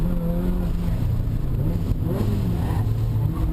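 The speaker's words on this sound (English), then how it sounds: "Got a little wheel spin there coming out of off-ramp." A race car engine roars and revs under hard acceleration with wheel spin out of a corner at a time attack event, loud and close, with a rising pitch as it pulls away.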